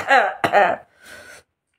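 A man gives two rough, voiced coughs close up, followed by a softer, breathy throat-clearing rasp before falling silent.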